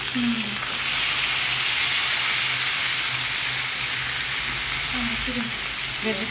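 A sauce of soy sauce, tomato sauce and sugar sizzles and bubbles steadily in a hot pan for a home-cooked ramen. The frying is close and continuous, with occasional stirring scrapes.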